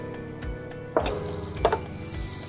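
Butter sizzles in a hot pan for orange chicken sauce, a steady frying hiss with a few brief clinks and stirs, close and fairly quiet.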